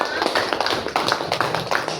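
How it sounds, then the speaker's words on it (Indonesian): Primary-level classroom of students clapping for the first group after its presentation, a short burst of uneven, fairly close claps with background chatter and movement. "beri tepuk tangan dulu untuk kelompok pertama"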